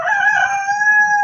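A rooster crows in a single sustained call, loud and close, with faint low rumble underneath and no talking.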